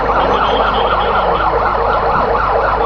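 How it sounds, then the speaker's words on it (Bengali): An ambulance from the Sylhet civil surgeon's office arrives at a fire scene, its siren wailing loud and close in a continuous warbling cycle, with no speech. "আমাদের সিভিল সার্জনের দপ্তর থেকেও একটি অ্যাম্বুলেন্স এসে পৌঁছে গেছে"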